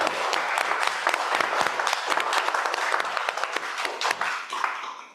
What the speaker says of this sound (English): Can we have a round of applause for ourselves?